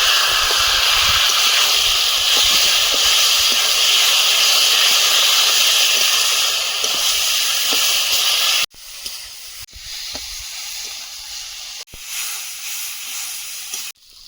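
Bay leaf, black cumin and taro leaves fry in hot oil in a pan with a loud, steady hissing sizzle that drops sharply and resumes quieter, broken by a few sudden cuts.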